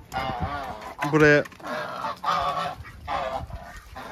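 Geese on a hobby farm give several close, loud honks in bursts among ducks, with a person speaking briefly over them.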